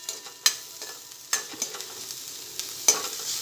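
Green onion sautés quietly in a pan for Kathiyawadi rotlo, a soft continuous sizzle broken by a few sharp scraping stirs, close and faint.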